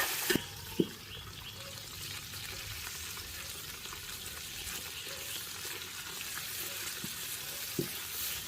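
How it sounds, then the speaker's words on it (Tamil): Coriander and mint leaves sautéing in hot oil in a large pot for a 1 kg beef nalli biryani, a steady loud sizzle with a few stirring knocks, no talk. "போட்டு ஒரு 10 செகண்ட் நல்லா வதக்கிட்டு ஒரு கைப்பிடியில் பார்த்தீங்கன்னா புதினாவை சேர்த்துக்கலாம்"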